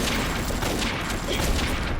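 Gunfire in the video game OA Đại Chiến rattles in a dense, continuous fusillade of overlapping shots, loud and close throughout a brief burst.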